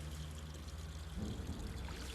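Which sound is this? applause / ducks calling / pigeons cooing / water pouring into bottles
water pouring into bottles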